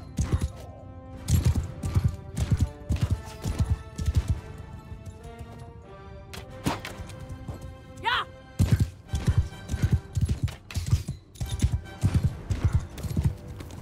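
Horse hooves clip-clop in uneven bursts in Mount & Blade 2: Bannerlord, with a brief whinny partway through; a voice talks intermittently over the steady hoofbeats.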